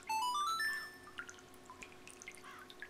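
In the Majora's Mask video game, the water drop guitar plays a quick run of bright, rising plucked notes, then softer scattered watery drips trail off, heard alone.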